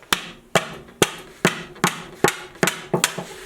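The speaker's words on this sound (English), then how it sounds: "and hammer it too until it goes all the way" Eight solid hammer strikes on wood at a steady rhythm, close and loud, each a crisp knock with a short ring, while building a garden trellis.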